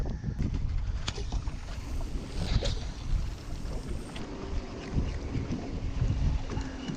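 Strong wind blusters on open water around a small boat, buffeting the microphone with a steady rough rumble and gusty surges, alongside water slapping against the hull.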